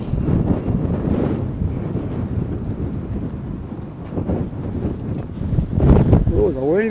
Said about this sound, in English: Oh, the wind's blowing pretty good right here.